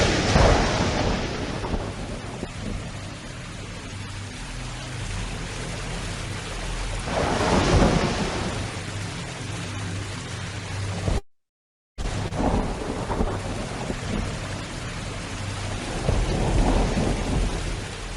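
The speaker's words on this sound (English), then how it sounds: "There's been a tumultuous rain, and it has flooded the whole area." Heavy rain pours steadily throughout, broken by rolling thunder near the start, around seven seconds, and again later in the second half, with a brief dead gap partway through.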